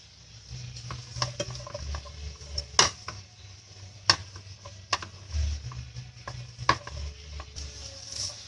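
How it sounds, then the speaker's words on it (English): Vegetables being sautéed in a pan for white sauce pasta, a low sizzle under sharp, sporadic clicks and knocks of a spatula against the pan, close and intermittent. "Now we'll saute them."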